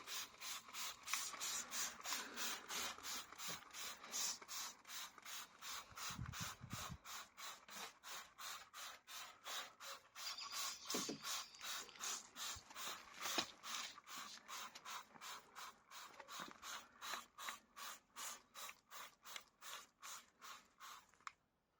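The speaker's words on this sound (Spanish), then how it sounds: "Vamos a rociar todo el suelo. Y aquello que esté un poco más duro lo frotamos con el cepillo." A stiff brush scrubs a car's carpeted floor soaked with KH7 degreaser, in a steady, rapid back-and-forth rhythm of rubbing strokes that continues throughout, close and moderately loud with no talk.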